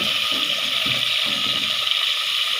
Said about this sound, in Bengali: মাছগুলিকে ভাজতে দিয়ে দিচ্ছি